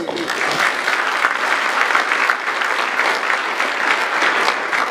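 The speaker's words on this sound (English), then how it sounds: "I think that's worth a round of applause." Round of applause from an audience at a business growth forum, steady, dense clapping from a sizable crowd that holds at an even level throughout, fairly loud and uninterrupted by speech.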